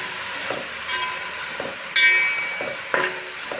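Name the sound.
stir-frying tomatoes and onions in oil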